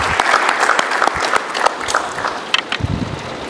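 An audience at a ceremony honouring Fountain Gate school as African champions, with close, loud applause made of many distinct individual claps that continues throughout.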